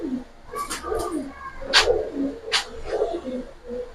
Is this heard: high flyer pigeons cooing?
yes